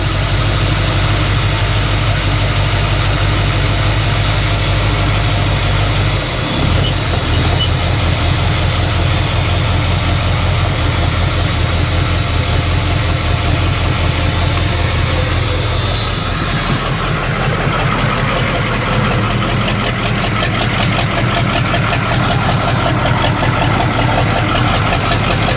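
A Ford cabover truck's diesel engine idles loud and close with a deep steady rumble, shifting partway through to a rattlier, more clattering idle while air pressure builds.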